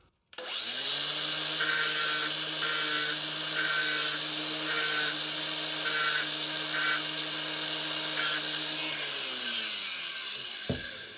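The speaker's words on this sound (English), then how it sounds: "So I'm going to reduce the length of the pin with my trusty angle grinder." An angle grinder cuts down a metal belt pin with a steady, loud whine and a high, gritty grinding tone, pulsing in regular bursts as the disc bites the workpiece, before it spins down at the end.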